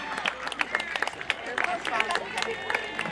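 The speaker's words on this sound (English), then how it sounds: "Big round of applause." Audience applause and clapping at an opening ceremony for games, with scattered claps and a crowd murmur filling the background, mixed with some voices.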